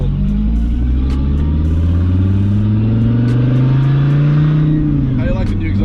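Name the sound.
Dodge Viper ACR engine revving with new exhaust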